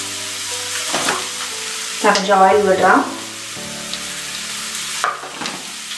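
Oil poured over mashed potato filling for aloo kachori, a brief burst of sizzling followed by stirring and scraping in the pan, fairly loud and close, with no voice.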